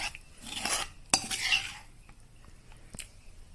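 Mango pulp cooked down with jaggery scraped and stirred in a pan with a metal utensil: close clinks and scraping strokes, one sharp knock, then quieter stirring.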